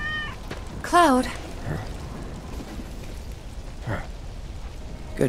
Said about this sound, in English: Good kitty.